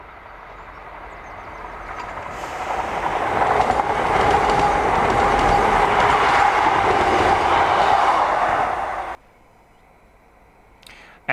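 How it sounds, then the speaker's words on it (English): A ScotRail Class 170 and Class 158 DMU pair from Inverness passes Dolpha Burr, a rushing roar that swells over several seconds, holds loud, then cuts off abruptly to quiet. "we see a ScotRail Class 170 and 158 DMU combination, as 170-395 and 158-729 pass Dolpha Burr with a train from Inverness."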